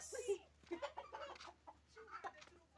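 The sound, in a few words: chickens clucking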